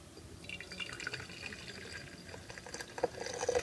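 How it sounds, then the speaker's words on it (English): Alcohol is poured into a container for a reishi mushroom extraction, a soft, steady trickle with gurgling drips and splashes, faint and close, gaining a little toward the end. "you guys know what a pouring liquid looks like"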